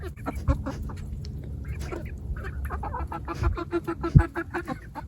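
Several chickens cluck and murmur nearby in irregular bursts, with a couple of sharper squawks toward the end over low background noise.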